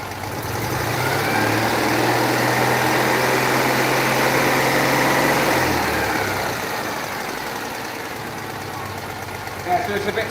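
A Citroën 2CV engine idles on a dyno with a slightly uneven, scattery tick-over, a steady low rumble that eases after about six seconds, with a brief knock near the end.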